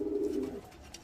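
A pigeon at a home loft gives one soft, low coo that fades after about half a second, close but quiet, with faint ambient noise behind it.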